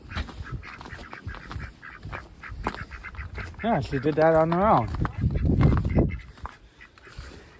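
Ducks being let out on a farm at sunrise give a burst of honking quacks around the middle of the clip. A person talks close by, and there is shuffling in the pen.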